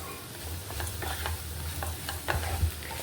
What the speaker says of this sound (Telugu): గోంగూర కూడా ఇలా ఫ్రై అవుతుంది, ఇంకా బాగా ఫ్రై అవ్వాలండి